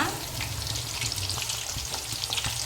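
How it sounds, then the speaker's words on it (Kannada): Chicken pieces fry in a pan over a low flame, giving a steady, close sizzle with soft crackles throughout and no voices. "ಲೋ ಫ್ಲೇಮಲ್ಲಿ ಇಟ್ಕೊಂಡು ಹುರ್ಕೋಬೇಕು"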